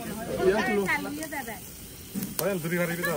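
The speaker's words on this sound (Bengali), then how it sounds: "এখানে হচ্ছে পরোটা ভাজি করা হচ্ছে" Paratha frying in oil at an outdoor barbecue in Khagrachari, a soft steady hiss running beneath people talking nearby.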